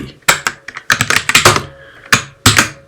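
Bursts of clicky keystrokes on a computer keyboard, typed in quick clusters with short pauses between, close and clear with no talk over them.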